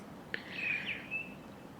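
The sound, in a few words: blackbird singing, mimicking a car alarm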